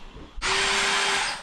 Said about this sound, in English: Now he's drilling some holes.